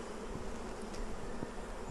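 Honeybees buzz steadily around a hive brood frame, a continuous close droning hum with a few individual bees passing near, no voices.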